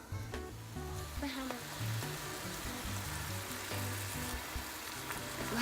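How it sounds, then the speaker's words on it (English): Ground turkey cooking without oil in a non-stick pan gives a close, steady sizzle and crackle with occasional stirring scrapes, and a low hum runs underneath. "I just stick the meat in there and let it cook"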